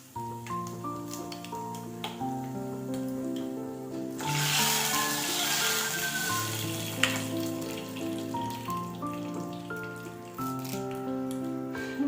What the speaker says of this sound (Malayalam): കാൽ സ്പൂണ് ഉലുവ ഉലുവ ഒന്ന് പൊട്ടേ രണ്ടൂന്ന് വറ്റൽ മുളക്